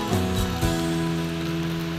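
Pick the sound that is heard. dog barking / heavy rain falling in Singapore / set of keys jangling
heavy rain falling in Singapore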